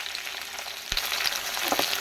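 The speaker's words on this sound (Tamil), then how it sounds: "வெங்காயம் நல்லா எண்ணெயிலேயே வேகணும்." Onions and curry leaves sautéing in hot oil for Tamil bitter gourd vatha kuzhambu, a close steady crackling sizzle with one sharp clink of a stirring utensil partway through.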